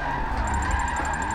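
A wide-body MK5 drift build in a racing game slides sideways with a steady tire squeal and droning engine, a light repeating turbo flutter ticking over the top throughout.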